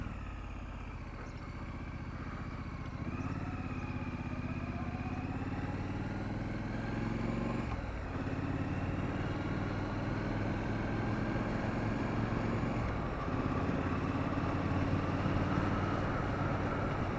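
A Triumph Street Scrambler motorcycle engine idles while warming up, a steady low droning rumble with slight shifts in pitch, heard alone and fairly quiet.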